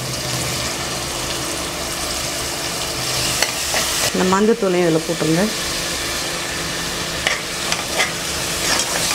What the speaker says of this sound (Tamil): இந்த இஞ்சி பூண்டு பேஸ்ட் நல்லா பச்சை வாசனை போகிற அளவுக்கு நல்லா வதக்கிட்டோம்